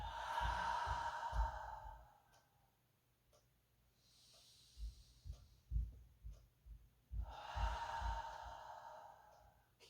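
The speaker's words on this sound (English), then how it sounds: "Let the breath breathe into the nose and out through the mouth." Slow, calm breaths during a short yoga session, drawn in through the nose and released audibly through the mouth, two long soft exhalations with quieter inhales between, close and alone.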